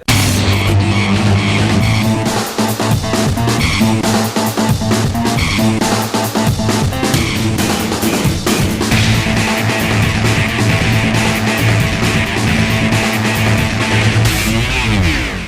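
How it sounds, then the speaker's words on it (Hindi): A Range Rover Long Wheelbase luxury 4x4 SUV on a test drive makes loud, continuous engine and road noise with bursts of tyre squeal throughout. "तो चलिए ले चलते हैं आपको रेंज रोवर की टेस्ट राइड पर"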